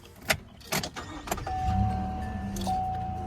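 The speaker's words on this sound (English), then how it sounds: "now you're going to turn on the car" A truck is started from inside the cab: a few sharp clicks and key handling, then the engine catches and settles into a steady low idle, with a thin warning chime sounding over it.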